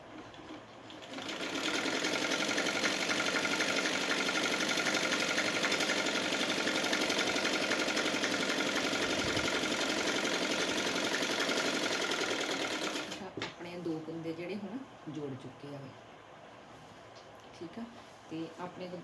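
A sewing machine stitches a salwar seam in a fast, steady run lasting about eleven seconds, then stops. A voice talks softly afterwards.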